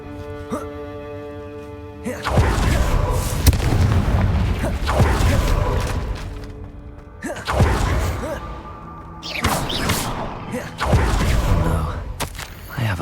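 Repeated loud booming blasts of the Confringo spell burst in Hogwarts Legacy, several separate explosions with rushing, crackling tails spread across the scene, close and heavy, between quieter game ambience.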